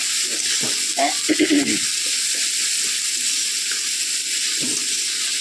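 Lentil dumplings frying in hot oil while a fish curry is cooked, a steady broadband sizzle running throughout with brief stirring scrapes and faint voices.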